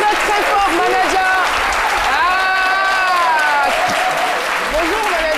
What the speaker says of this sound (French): On applaudit très très fort, Manaja.